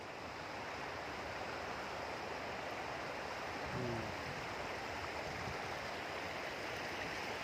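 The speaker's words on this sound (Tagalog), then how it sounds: "Small river." A small river, the Katara, flows in a continuous broadband rush of water, steady and fairly loud, with a faint brief voice near the middle.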